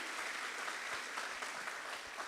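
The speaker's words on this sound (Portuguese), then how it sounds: "dá um aplauso para Jesus bem forte" Church congregation applauding at a Holy Communion service, a dense steady wash of many hands clapping with no breaks, heard from a distance.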